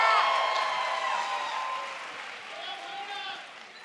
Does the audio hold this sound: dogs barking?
no